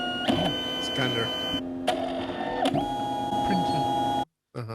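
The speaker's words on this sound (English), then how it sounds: "Printer." A printer whirs and clicks mechanically, its motor pitch shifting as paper feeds, close up, then stops abruptly.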